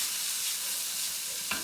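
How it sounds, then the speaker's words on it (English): Guanciale sizzles in a pan over a high flame, a close, steady frying hiss with a brief clink or stir near the end and no speech. "We're going to let that sizzle."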